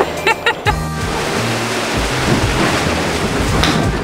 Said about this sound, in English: just like today, where it's a storm